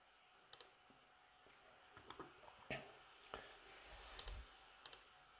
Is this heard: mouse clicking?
yes